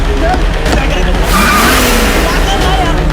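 A car screeches away in an action-movie chase, loud tire squeal and skidding over a revving engine, with frantic shouting voices over the commotion.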